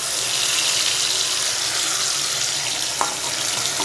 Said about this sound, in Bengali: এবার আমি এই পেস্টটা এই গরম তেলের মধ্যে দিয়ে দিচ্ছি